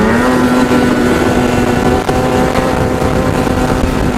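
A loud snowmobile engine idles steadily and evenly close by, a constant droning hum with no changes in pitch or breaks.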